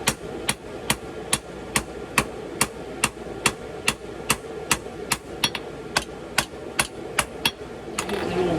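Forged H13 steel takes evenly spaced hammer blows adding a forge texture, about twenty sharp ringing strikes in a steady rhythm, close and loud over faint background hum.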